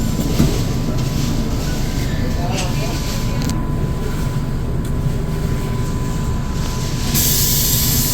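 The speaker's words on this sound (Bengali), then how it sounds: "ট্রেন ছেড়ে দিল হাওড়ার উদ্দেশ্যে।" Patna–Howrah Vande Bharat Express pulling out of the station, a continuous heavy rumble with mechanical clatter and rail noise rising slightly toward the end.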